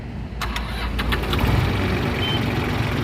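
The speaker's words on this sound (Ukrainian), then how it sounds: "І зараз заведемо його, послухайте, як він працює і як працює фреза" Mitsubishi MT 200 compact tractor fitted with a rotary tiller, in Mukachevo, cranks with a few quick starter pulses, then catches and settles into a steady, close, loud diesel idle with no voices.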